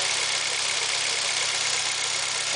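An engine idles evenly in a car fitted with a new fuel feed line kit, a steady mid-low drone with no talk over it.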